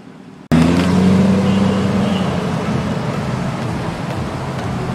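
A mid-engine Chevrolet Corvette C8 starts abruptly after silence and settles into a loud, steady idle with a brief higher tone early on, heard close up.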